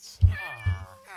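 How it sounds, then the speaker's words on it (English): A cat in the Minecraft video game meows twice in quick succession, a short rising mew followed by a second longer one, clear and close with no other sounds. "Oh, a cat."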